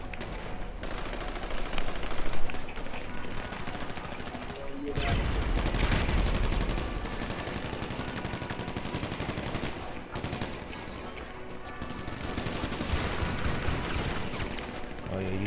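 Rapid bursts of gunfire in Grand Theft Auto V, sustained at a loud, dense level with a heavier volley partway through and a player's voice in the mix.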